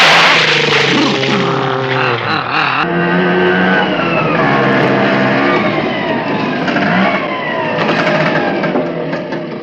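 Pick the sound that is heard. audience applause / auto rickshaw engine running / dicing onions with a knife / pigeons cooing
auto rickshaw engine running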